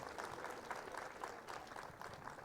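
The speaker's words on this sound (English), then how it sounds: "A big, loud round of applause for our speakers." Sustained applause from a large audience for speakers at the Jaipur Literature Festival, a dense wash of clapping that is fairly faint and continuous throughout.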